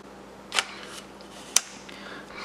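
A Canon EOS 77D DSLR shutter fires in sharp mechanical clicks, two distinct close snaps plus a softer one near the end, over a quiet room.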